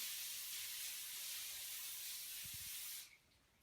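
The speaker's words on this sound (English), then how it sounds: "you're going to give it a spray with some cooking spray" Cooking spray hisses steadily from an aerosol can into an 8x8 inch foil-lined pan, one continuous spray of about three seconds that cuts off abruptly.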